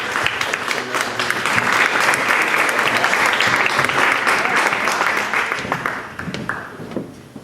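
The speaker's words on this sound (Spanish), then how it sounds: "Un aplauso." A film-festival audience at Ficunam gives a sustained round of applause for a talk with Roger Koza and director Alain Guiraudie; the dense clapping swells, holds, then thins and fades toward the end.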